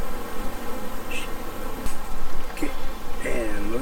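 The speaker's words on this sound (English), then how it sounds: "And that threw all the bees up." Disturbed worker bees swarming up from an opened hive after it was bumped, a steady dense buzz close by with individual bees droning past.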